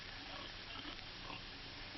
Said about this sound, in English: Over here, Ann is busy grooming her pigs